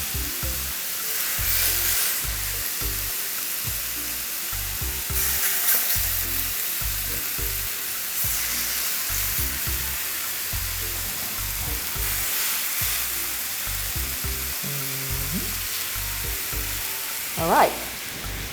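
White jollof rice with chicken fries without oil in a covered SaladMaster pan, a steady crackling sizzle with rhythmic bursts as pieces are shifted, and a brief sharp clatter near the end.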